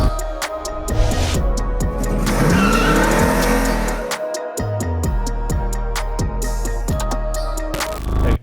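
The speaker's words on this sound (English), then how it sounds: "Now it's time to hear that exhaust note." A loud, raw straight-pipe exhaust on a Nissan R35 GT-R roars close by as the engine revs repeatedly, sharp rising and falling blips with crackling bursts between them.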